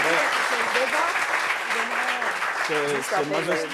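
An audience applauds steadily while a voice talks over the clapping.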